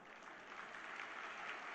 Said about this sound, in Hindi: एक बार जोर से ताली बजा दीजिए।